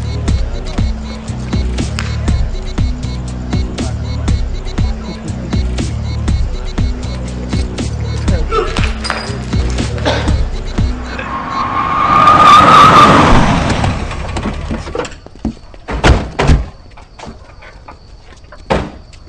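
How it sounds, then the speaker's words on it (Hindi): A car engine starts and revs hard as the car takes off quickly, with a surge of roaring and tire noise midway, followed by thumps and clatter in a comedy film scene. "गाड़ी स्टार्ट कर जल्दी जल्दी।"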